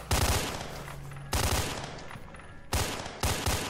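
Three loud, close shotgun blasts from the S.T.A.L.K.E.R.: Shadow of Chernobyl video game, each a sharp boom with a decaying tail, fired through a floor at spaced intervals with no talk.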